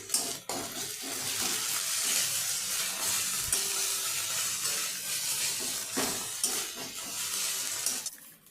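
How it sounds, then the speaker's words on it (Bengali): Ginger, garlic and onion spice paste frying over low to medium heat in a pan for a jackfruit curry, giving a steady, fairly loud hiss and sizzle with occasional stirring clicks throughout, no talking. "এরপর আমি আবারও মশলাটাকে ভালোভাবে ভেজে নিচ্ছি।"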